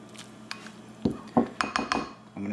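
A ladle serves gluten-free vegan ramen soup from a pot, giving a few close metallic clanks and scrapes against the pot, brief and moderately loud.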